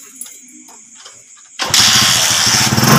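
A Rossi 150 Macho motorcycle with a stalling fault is started: after some quiet handling noises the engine catches suddenly and runs loud and close in a rough, steady idle, with no talk over it.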